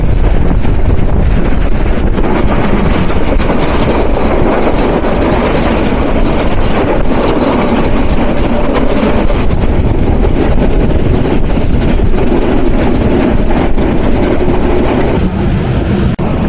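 Rangpur Express passenger train running through a station, its steady loud rumble and rattle of carriages continuing throughout with wind buffeting, no talk.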